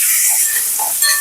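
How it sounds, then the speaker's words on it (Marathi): Garlic cloves and green chili sautéing in hot oil with a pinch of asafoetida in a pan, a steady close bright sizzle throughout the short stretch. "थोडं परतवून घेऊया।"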